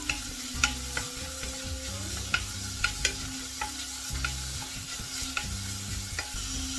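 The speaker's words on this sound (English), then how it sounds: "Onion go in there and gently fry" Onions fry gently in a little ghee in a pan over a light flame, with a steady soft sizzle and occasional sharp clicks and scrapes of stirring.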